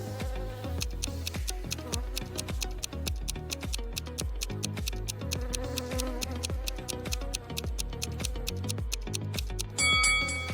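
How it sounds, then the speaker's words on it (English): Wasps swarming from a disturbed nest, a dense continuous insect buzz with a pulsing, ticking rhythm that stays loud and close throughout, with no voices. "Betty stepped on a wasp's nest. Wasps were everywhere."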